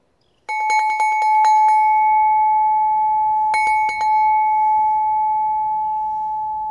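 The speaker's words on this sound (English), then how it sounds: "This first rusty bell." An uncoated, rusty bell cut from a small oxygen cylinder rings under a rapid flurry of strikes, then a second short burst, its clear metallic tone sustaining loudly throughout.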